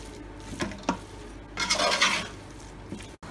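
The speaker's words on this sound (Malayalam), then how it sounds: "നമുക്ക് നല്ലിട്ട് ഇളക്കി കൊടുക്കാം ഇളക്കിക്കൊണ്ടിരിക്കുകയാണ്" Duck curry being stirred in a pan, a few scraping strokes of a spoon and soft clinks against the metal, with a longer scrape in the middle over a faint sizzle.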